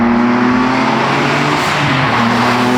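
A Nissan Z fitted with a rear-mount turbo accelerates hard with a loud, sustained engine drone and steady tonal whine, heard close and continuous throughout with no talking.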